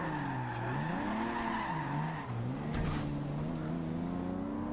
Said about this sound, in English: let's try and get this drift in